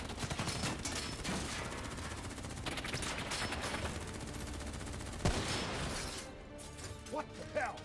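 Gunfire in the Call of Duty: Black Ops III campaign: dense, continuous rattling bursts of automatic weapons with sharp cracks and impacts, loud and close, mixed with game effects and some voices.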